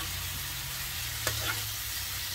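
Food fries in a pan with a steady loud sizzle as it is stirred, one or two brief scrapes of the utensil cutting through the crackle, no voices.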